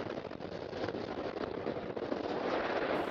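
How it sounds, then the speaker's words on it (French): A sustained rumbling roar with crackling bursts comes from a chemical plant explosion at the TPC site in Texas, caught by a security camera; the noise stays dense and loud throughout. "Les caméras de sécurité avaient filmé la première explosion sur le site de TPC."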